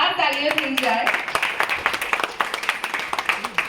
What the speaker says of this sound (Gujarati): તો તમારા બધા માટે જોરદાર તાળીઓ થઈ જાય